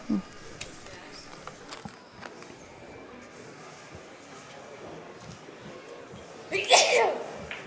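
At a 9-ball pool tournament, a single sharp sneeze bursts out near the end, louder than the quiet background of faint movement and shuffling before it.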